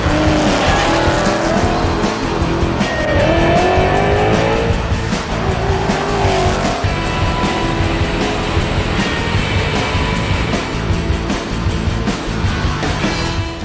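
A loud supercharged Vortech-equipped 2011 Mustang GT roars steadily on a drag run and climbs in pitch, with tire squeal and a continuous high-revving drone close by.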